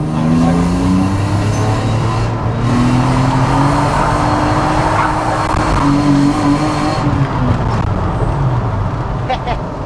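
A drift car revs and drives hard, its engine droning loudly and continuously with rising and falling pitch, and tire noise may mix in throughout.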